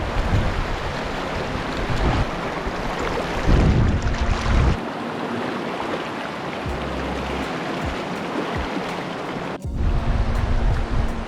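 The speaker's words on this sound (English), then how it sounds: "You can hear that. That's the wind." Wind blowing outdoors during fly fishing, a loud, steady roar with low gusty rumbles and buffeting on the microphone that swell and drop, continuous across the scene with no talking.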